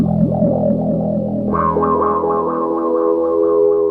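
A buzzy vintage synthesizer played in mono plays a wobbling, repeating pitch pattern, its tone shifting brighter halfway through. There are no voices.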